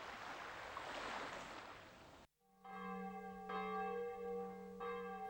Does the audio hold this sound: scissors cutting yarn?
no